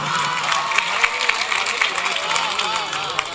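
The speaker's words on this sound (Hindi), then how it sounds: "दोस्तों एक बार भरपूर तालियों से मुझे एहसास करा दे कि आगे गीत आप सुन रहे हैं" Applause from the audience at a mushaira poetry recital in Sambhal, a dense steady wash of clapping and crowd noise filling the whole stretch without a break.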